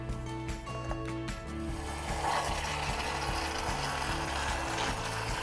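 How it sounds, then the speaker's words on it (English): A spindle mixer whirs steadily as it blends a strawberry milkshake made with strawberry puree and crushed ice, a continuous close mechanical drone with rattling undertones throughout, no talking. "then we use our spindle mixer"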